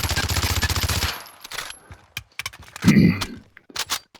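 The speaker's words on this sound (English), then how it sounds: "What you kind of want to do is you want to be able to shoot your gun" Rapid automatic gunfire from a weapon in Call of Duty Warzone, a loud sustained burst for about a second, then scattered clicks and a lower thump with short follow-up sounds.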